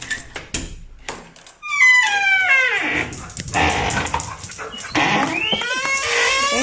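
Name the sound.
dogs barking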